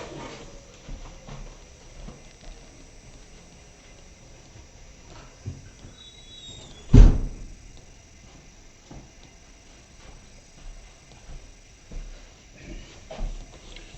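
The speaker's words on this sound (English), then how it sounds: "I may close the door." A door is shut once, giving a single sharp, fairly loud thud midway through an otherwise quiet room with faint background noise.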